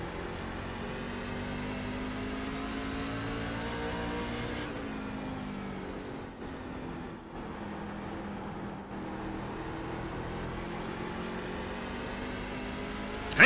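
A NASCAR race car engine hums steadily at a road-course race, with a drop in pitch suggesting a downshift partway through, then a brief dip before the engine settles back.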